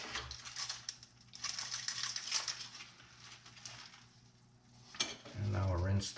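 Metal zinc-plating hardware such as bolts being hung in a Caswell electroplating tank, giving faint scattered metallic clinks and scrapes over a quiet background, ending in a louder clatter of handling.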